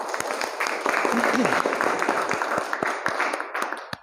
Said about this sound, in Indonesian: Beri tepuk tangan untuk Fadila.